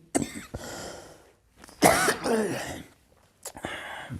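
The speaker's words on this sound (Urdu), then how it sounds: "کھانسی ہوئی" A few harsh coughs and throat-clearing bursts, close and fairly loud, separated by short pauses.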